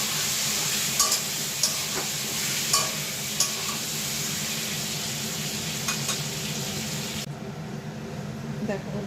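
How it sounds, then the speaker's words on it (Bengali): Potatoes frying in hot oil in a home kitchen pan, a steady loud sizzle with occasional stirring clinks and scrapes, no talk over it. "তো আমি আলুগুলো ভাজতে দিয়েছি।"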